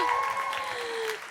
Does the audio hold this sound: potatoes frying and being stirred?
no